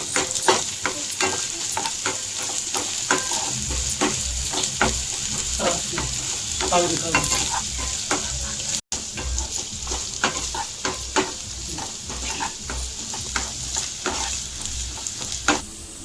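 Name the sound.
ginger garlic paste frying with onions in a pan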